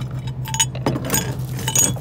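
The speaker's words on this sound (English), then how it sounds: "Making sure that these broken glass bottles go back" Broken glass bottles being set down at a junkyard, a scatter of bright clinks and chinks over a low steady hum, several small hits in quick irregular succession, close by, no talking.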